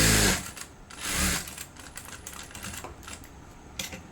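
A sewing machine stitches the edge of a back boat neck blouse, starting with two loud whirring bursts and settling into a lighter, rapid mechanical rattle close by.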